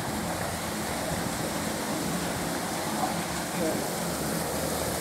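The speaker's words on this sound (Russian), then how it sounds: "Вот вода из пруда, она попадает вниз и потом сворачивает" Pond water pouring down through a concrete water intake at the source of a small stream, a steady rushing splash that is close and continuous throughout, with no break in the flow.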